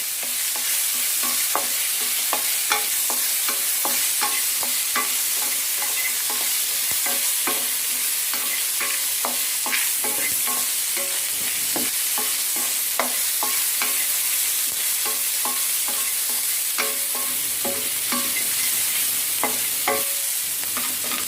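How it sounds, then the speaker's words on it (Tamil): Onions with salt sauté in a pan for a village-style Tamil fish curry, a dense continuous sizzle under constant rapid stirring scrapes, close and loud with no speech. "நம்ம உப்பு சேர்க்கறனால நம்மளோட வெங்காயம் சீக்கிரமாக வதங்கிடும்"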